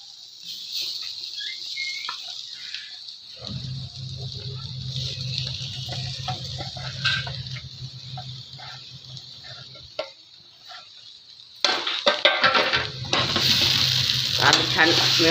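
Potatoes frying with masala in a pan, a steady close sizzle with scattered stirring clicks and scrapes, growing louder and busier toward the end.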